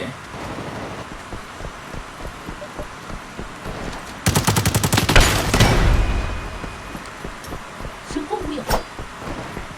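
Gunfire from the shooter game Lost Light: a rapid automatic burst of evenly spaced shots, close and loud, runs for about two seconds mid-clip, followed by a few scattered single shots and wind-like ambience.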